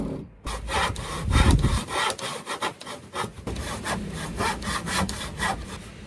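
Rusty hand saw cutting through wood, a close, loud series of rhythmic rasping strokes that start after a brief pause and continue steadily to the end.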